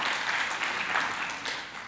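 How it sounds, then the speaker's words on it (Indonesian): Church congregation applauding during a Sunday service, a steady, dense wash of many hands clapping at moderate level for about two seconds with no talk over it. "Yang setuju berikan tepuk tangan bagi Dia."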